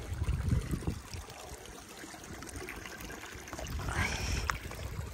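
A mountain stream flows with a soft, steady trickling and burbling, fairly close but quiet, with some low handling noise near the start.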